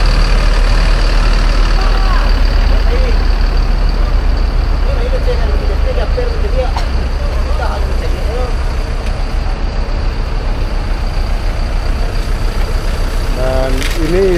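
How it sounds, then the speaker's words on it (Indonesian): A sleeper bus idles at a stop, its engine giving a steady, loud, low rumble that carries on without a break, with faint voices now and then in the background. "Ini bus kita."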